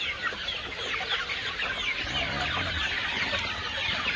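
Warhawk gamefowl chickens on a big farm in the Philippines give soft, scattered clucks over a steady background of outdoor ambience, close and continuous.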